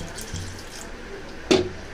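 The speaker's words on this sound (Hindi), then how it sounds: "उसके बाद इसको पानी डाल के" Water is poured into a besan and yogurt mixture for kadhi, with a short splashing pour near the end after quiet kitchen background.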